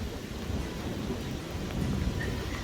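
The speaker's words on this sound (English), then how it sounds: "We've moved on to hailing right now." Heavy, constant drumming of hail and rain on a mountain in Montana near Glacier National Park, with a deep rumble of thunder underneath, loud and close throughout.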